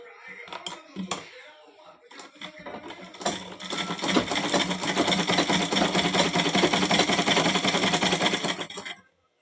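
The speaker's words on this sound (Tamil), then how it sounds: "வச்சு அந்த தையலுக்கு மேலேயே இன்னொரு தையல் அடிக்கணும்." A sewing machine stitches a pillow cover, running at a steady close whir for several seconds after some brief starts, with a person speaking over the opening before the motor stops abruptly.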